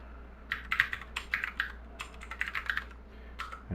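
Computer keyboard keys tapped in quick irregular bursts while a command is entered in a Linux terminal, close and fairly crisp over a low hum, with no talking.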